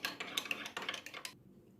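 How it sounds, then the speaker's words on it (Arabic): A small spoon stirs yeast and sugar into warm water in a glass cup, a quick run of faint clinks and taps that stops after about a second and a half. "حركها كتير منيح لحتى تذوب الخميرة."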